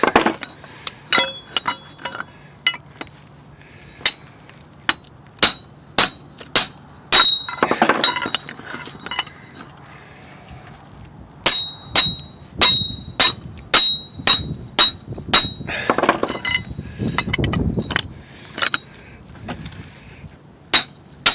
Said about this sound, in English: You keep hammering and rotating it so it comes off evenly.